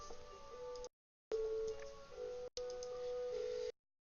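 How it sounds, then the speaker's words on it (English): A video game phone hang-up: three bursts of steady electronic dial tone with brief silent gaps between them, cutting in and out. "I'm hanging up now. Not a phone. Over. Click dial tone."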